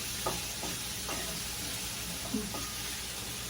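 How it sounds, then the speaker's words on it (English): Garlic sizzles in a pan over lowered heat, a steady frying hiss with a few soft stirring scrapes and taps. "We don't want the garlic to burn."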